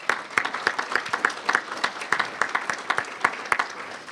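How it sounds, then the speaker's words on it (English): An audience at a county budget luncheon applauds steadily, a dense patter of many hands clapping at close-to-middle distance that holds throughout at an even level. "Let's give them a round of applause."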